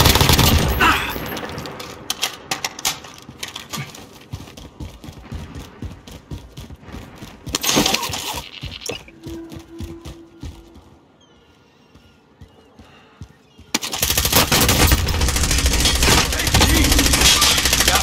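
Warzone video game gunfire: dense, rapid bursts of automatic shots with clattering mechanical noise, a quieter lull in the middle, then a loud sustained volley at the end.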